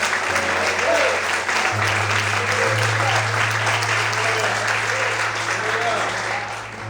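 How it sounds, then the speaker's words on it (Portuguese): A church congregation applauds in a Portuguese-language worship service, loud, continuous clapping that fills the room while a steady low organ or keyboard tone holds underneath and faint voices mix in. "Mais aplausos para Jesus"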